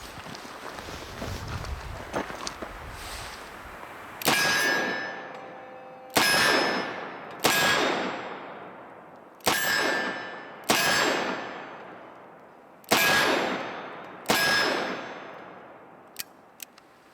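Seven sharp, loud shots from a Smith & Wesson 686+ seven-shot .357 Magnum revolver ring off steel targets at irregular intervals, each crack trailing into a fading metallic decay, with a quieter rustle before the first shot.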